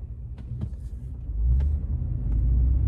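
A Power Wagon pickup truck drives slowly around the block, its engine giving a steady low rumble that swells slightly halfway through, with a few faint clicks and knocks over the drone and no talk.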